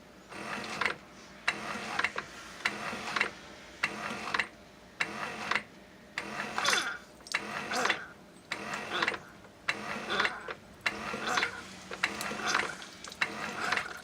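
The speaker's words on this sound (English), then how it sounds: "that's the normal sound a Keurig makes when it is brewing" A Keurig coffee maker brewing an 8-ounce cup gives a repeating series of mechanical pumping pulses, about one each second, each with a gurgling hiss, quiet and close by.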